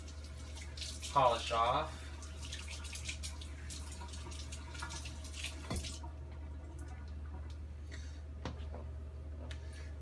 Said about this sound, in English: Now I'll rinse it.